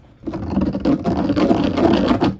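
A Dremel rotary tool cuts holes into a sled, buzzing steadily and close up for about two seconds with a grinding, scraping texture and no talk over it.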